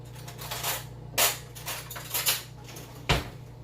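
Metal spoon clattering against dishes and cutlery while a clean spoon is fetched for tomatillo salsa at a taco prep counter, several sharp close clinks and scrapes spread over a few seconds, no talk.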